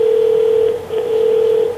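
Call tones ring out loud through an ECOXGEAR Bluetooth speaker, a steady pure tone holding with one brief break.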